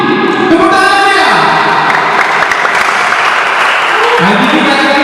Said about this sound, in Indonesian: Adi, tepuk tangannya.